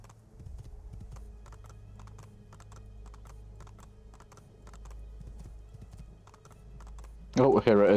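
Horse hooves clip-clopping in the video game Assassin's Creed II, a quiet regular beat of hoofsteps over low background hum, ending with a short loud burst near the end.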